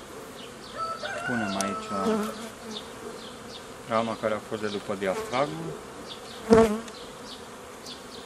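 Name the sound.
honey bee colony buzzing at open hive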